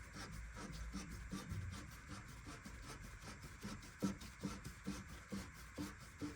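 A wrench twists the threaded adjuster on a Porsche 944 coilover in faint, close rasping turns, a rhythmic series of scraping strokes that grows more distinct in the second half, without talking.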